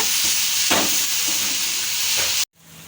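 Coriander and other ingredients sauté in a pan with a continuous hiss and sizzle and a few stirring scrapes, then the sound cuts off abruptly near the end.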